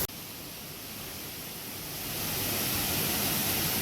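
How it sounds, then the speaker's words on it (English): Nanny Falls waterfall roars as a dense, continuous broadband rush of falling water, close and steady, growing slightly louder partway through, with no voices. "You guys just take a look at this beautiful waterfall"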